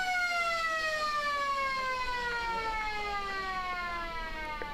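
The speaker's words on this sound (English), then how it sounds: "that siren goes to end the third term" An Australian rules football ground siren at a Riverina AFL match ends the third quarter with one long, steady, loud wail that dips slightly in pitch, heard on its own.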